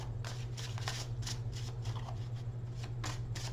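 Tarot cards being shuffled in quick riffling bursts, a series of papery flutters over a steady low hum, close by with no talking.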